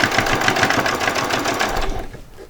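Sewing machine stitching a fabric hem on Christmas pajamas, a fast steady mechanical whir with rapid needle ticking, close and loud, slowing and stopping near the end.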